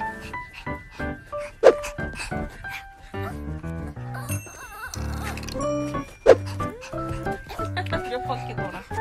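Excited Yorkshire terrier yips and snorting grunts come in bursts as its owner wakes, over a person's cheerful chatter, with two sharp louder yelps standing out.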